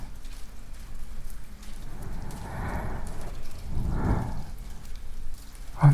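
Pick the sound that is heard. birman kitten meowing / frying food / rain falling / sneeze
rain falling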